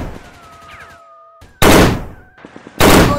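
Two sharp, loud bursts of gunfire from the Modern Commando war game crack out after a quieter stretch of tonal electronic sounds, each blast decaying quickly.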